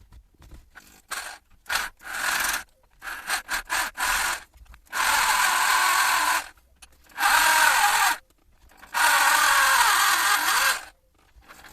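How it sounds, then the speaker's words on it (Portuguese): A power drill with a 6 mm bit bores out a broken bolt in the thermostat housing of a 1982 Datsun Urvan's SD23 engine, close and loud. It starts with short stuttering bursts, then runs in three longer sustained grinding spells. "com uma broca de 6 mm, vamos abrir o resto do buraco para tentar extrair o resto do perno."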